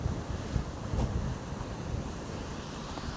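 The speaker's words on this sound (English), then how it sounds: "where the water runs through this little gorge here." Water rushing through a small rocky gorge at Loch Etive in Scotland, a steady outdoor roar with wind buffeting the microphone throughout.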